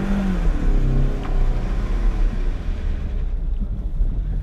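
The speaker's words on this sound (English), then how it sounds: "you rev the car up to do the burnout" Automatic car held on the brake during a burnout, engine revving hard with a loud, rough low roar and wind buffeting the microphone, tone easing toward the end.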